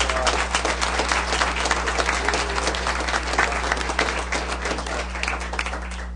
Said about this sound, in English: And everybody, a big round of applause